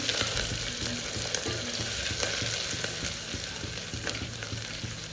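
Bay leaves and a few small whole spices frying in oil in a pan for khichdi, with a steady, close, continuous sizzle and light crackle throughout and no talking.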